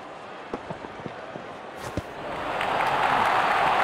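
Crowd cheering and applauding in the cricket video game Real Cricket 22 during a UAE vs Pakistan Asia Cup match, swelling from scattered claps into a loud, steady roar of a stadium crowd.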